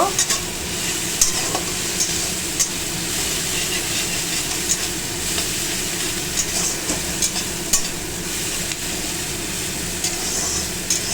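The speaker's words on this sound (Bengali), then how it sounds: "এই যে নাড়াচাড়া করছি, গ্যাসটা কিন্তু বাড়ানোই আছে।" Onions sizzle steadily in a hot pan over a high gas flame while a utensil stirs and scrapes them at irregular intervals, a loud continuous frying hiss close by with sharper clicks of the spoon, no voices.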